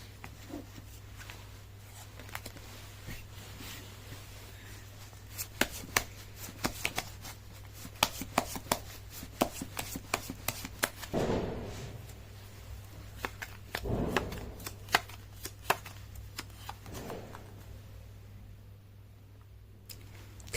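A tarot deck being shuffled by hand: quiet, close riffles and soft card slaps in irregular bursts over a steady low hum, with no talking.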